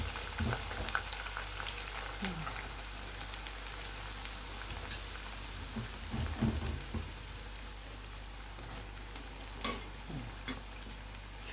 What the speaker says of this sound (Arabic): هنزل شويه شويه واحمرهم معاكم اهو